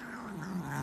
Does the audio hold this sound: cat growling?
yes